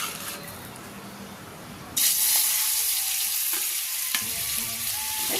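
Marinated chicken pakora pieces hit hot oil and burst into a loud, steady sizzle from about two seconds in, a dense frying hiss with a few sharp pops. Before that there is only a quiet kitchen background, and nobody speaks.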